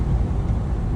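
An abandoned Mercury Capri Turbo, revived after sitting 23 years, idles in neutral with a steady low engine rumble, close and fairly loud, with no speech over it.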